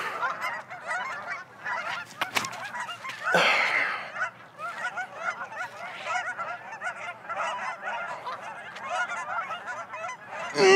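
A flock of geese honking loudly and frantically, many overlapping calls in dense bursts that rise and fall over about ten seconds, close and raucous, with one louder flurry partway through.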